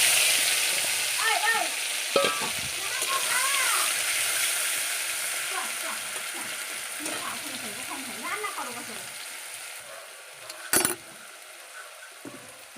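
Onion and nigella seeds frying in hot oil for a katla fish curry, a steady sizzle with stirring and a few utensil clinks, with people talking over it.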